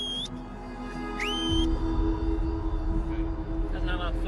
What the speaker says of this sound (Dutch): Dat is nou aan het fluiten